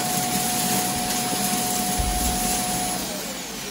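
A Shark IQ robot vacuum runs steadily and loudly up close, its constant motor whine and suction roar continuing as it picks up scattered debris, easing slightly near the end.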